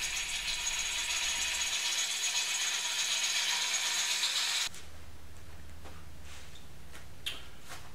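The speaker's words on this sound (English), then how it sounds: "the variable speed allows me to go slow and get the piece rounded up without a lot of shaking or vibration" Wood lathe spinning a roughed-out turning blank at higher speed, a steady whirring hum close by that cuts off abruptly partway through and gives way to faint clicks and rattles.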